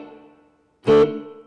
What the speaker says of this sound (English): Here's a lighter reverb.